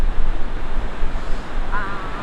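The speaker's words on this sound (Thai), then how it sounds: "ว่าเขาเป็นน้ำตกที่สวยที่สุดในญี่ปุ่นมั้ง" Roaring waterfall of melting snow in Nikko, Japan in winter, a steady broadband rush of falling water, loud and continuous with no voices over it.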